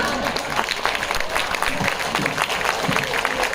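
A crowd at a mushaira and kavi sammelan poetry gathering breaks into applause, dense clapping that stays loud and continuous while voices murmur beneath it.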